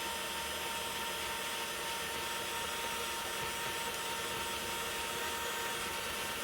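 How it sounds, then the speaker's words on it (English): A stand mixer whirs with a loud, constant broadband hum as butter is added for Italian buttercream, steady with no breaks and no voices. "So now I'm going to turn my mixer back on and I'm going to start throwing in the butter."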